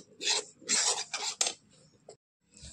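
Rice flour being dry-roasted in a pan for laddoos and stirred until reddish and sandy, giving four close raspy scraping bursts, then a brief scrape and a short softer rub at the end, with no talk.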